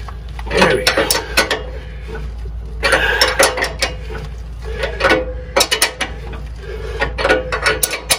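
A hand tool is cranked to press out a stubborn bushing. It gives bursts of close metallic ratcheting and clicking with pauses between strokes, and faint voices are heard in the background.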